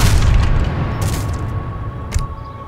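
Cannon fire in the strategy game Age of Empires 3: a loud, deep boom at the start that rolls into a low rumble, followed by a second, smaller thud with a bright crack near the end.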